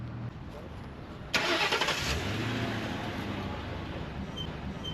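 A car engine restarts outdoors after its cover is reattached, a sudden loud crank and catch partway through, then settling into a steady idle after a quieter stretch of background noise.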